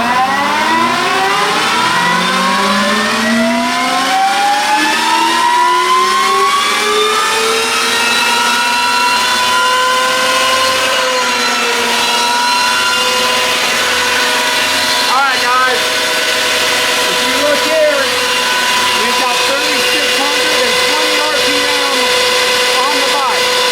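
An Energica EGO electric motorcycle spins up on a dyno, its loud motor whine climbing steadily in pitch over several seconds, then holding a high sustained tone with slight wavering.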